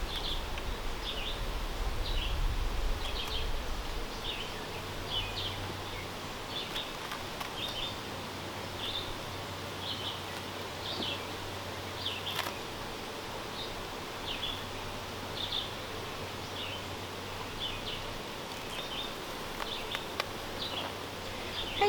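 Honeybees drone in a low, continuous hum during a hive inspection, with faint chirps of birds or insects repeating in the background and no talking.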